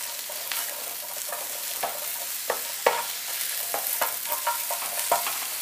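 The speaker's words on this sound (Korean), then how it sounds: "양송이도 투명해질 정도로 색이 나지 않게 볶아주세요." Button mushrooms sautéed in a pan give a soft steady sizzle, broken by scattered scraping taps of a spatula stirring, close and moderately quiet with no talk.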